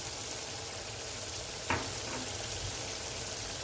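Turmeric, red chilli powder and other spices frying in a pan for a mutton stew, a faint steady sizzle throughout with one brief stir or clink in the middle.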